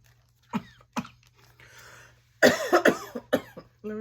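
Repeated coughing from someone with a lingering flu, two sharp single coughs followed by a close, harsh burst of several coughs and throat clearing.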